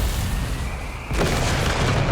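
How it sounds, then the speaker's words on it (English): A US mortar shell explodes in a Company of Heroes 3 battle: a sudden loud boom about halfway in, breaking over steady low battlefield rumble and trailing into a sustained roar, with no speech. "I'm guessing that's from the US mortar."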